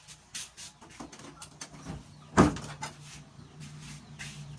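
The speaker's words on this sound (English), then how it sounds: "So I'm going to close the door now." A room door closes with one sharp thud midway, surrounded by faint creaks and small knocks in a quiet room.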